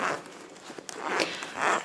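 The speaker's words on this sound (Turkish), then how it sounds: "Böyle boydan fermuarı var" A full-length zipper on a child's hooded winter jacket with elasticated cuffs, heard in a few quick rasping pulls close by, separated by brief pauses.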